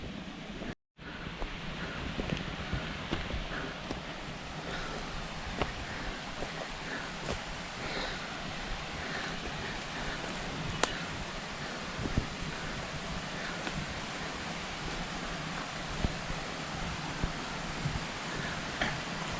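A waterfall along a forest trail run gives a constant broadband rushing roar, steady and fairly faint throughout, with a brief dropout near the start and no talk.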